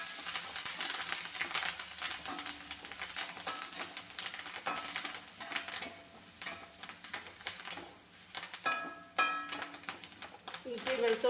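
Curry leaves and green chillies fry for a chicken curry, giving a loud, steady hot-oil sizzle with clinks and scrapes of stirring in the pan that run the whole time. No one speaks.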